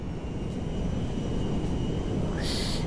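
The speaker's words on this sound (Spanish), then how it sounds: "Oh, qué bacán manejar este avión" Jet airplane engine in GTA V, a steady, broad roar of the aircraft in flight that holds even throughout, with a brief high whine rising near the end.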